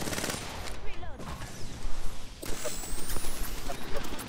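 Rapid gunfire from a weapon in Apex Legends, dense bursts of shots with a brief lull partway through before the firing resumes, loud and continuous with game effects layered underneath.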